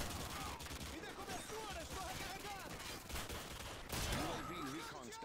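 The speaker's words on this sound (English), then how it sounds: "we're going in with the shotgun" Shotgun blasts and scattered gunfire in Modern Warfare 2 (2009) ring out in quick succession amid game effects, fairly loud and dense, with some voice chatter in the mix.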